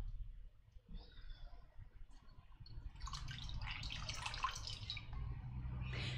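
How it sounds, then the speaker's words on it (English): Water splashes and trickles as a flannel is rinsed in warm water in a sink during a home facial, faint handling at first, then a steadier close splashing swell. "Flannel again, warm water."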